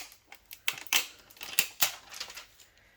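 Scissors snipping through craft material for Christmas home decorations, several sharp close cuts in quick irregular succession, heard alone.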